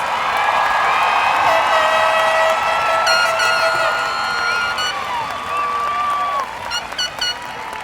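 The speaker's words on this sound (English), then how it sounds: "Let's give a round of applause to our 2022 graduates." Dense applause and cheering from a large crowd at a high school Class of 2022 graduation ceremony, with loud sustained clapping, whoops and whistles throughout.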